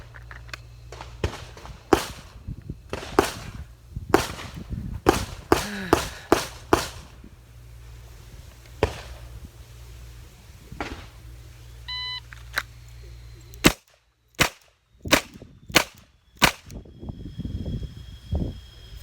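Ruger GP100 10mm revolver fired strong hand only, a run of sharp loud shots with short gaps, mixed among other nearby range gunfire and a few electronic timer beeps.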